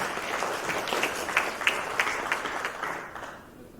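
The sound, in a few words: audience applause welcoming the speaker on stage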